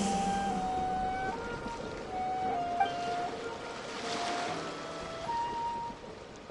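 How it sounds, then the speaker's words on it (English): Ocean waves in the Genshin Impact video game wash steadily in a broad surf wash, with faint tonal chimes from game music drifting over the water. No one speaks. "Go to where you can hear the sound of the waves"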